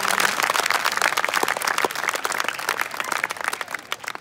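An audience claps loudly and densely at a comedy motivational show, a sustained burst of applause that thins slightly toward the end.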